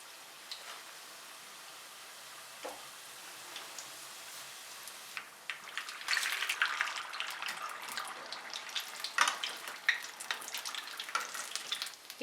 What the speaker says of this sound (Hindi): अब हम ये समोसे इसमें फ्राई करेंगे।